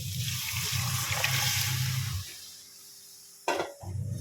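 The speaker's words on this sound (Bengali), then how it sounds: "এবার ডালটা দিয়ে দিচ্ছি।" Musur lentils are added to a pan of fried cauliflower and potatoes for Bengali vegetable dal, with a close hissing sizzle that fades, then a sharp splash and gush of liquid near the end.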